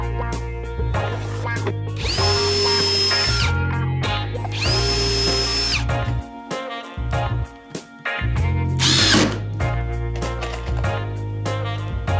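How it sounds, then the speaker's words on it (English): Power drill bores screw holes in pallet wood for a garden box, two long whining bursts with motor pitch rising and holding, a short pause, then further shorter drilling runs, close and loud. "I'm going to pre-drill all my screw holes before I screw into the wood"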